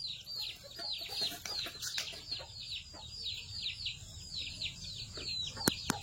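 Hens cluck repeatedly in quick, chattering bursts over a low background hum, with a couple of sharp higher calls near the end.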